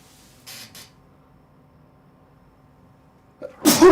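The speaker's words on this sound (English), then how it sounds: "I gotta sneeze, guys, sorry." A single loud sneeze near the end, preceded by a quiet intake of breath, after a brief rustle and near silence.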